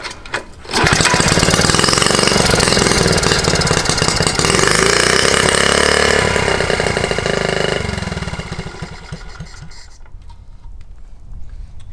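A Honda T50 motorcycle engine, back in use after ten years, runs with the choke out. It gives a loud, close, buzzing and sputtering drone that holds steady for several seconds and then eases off toward the end.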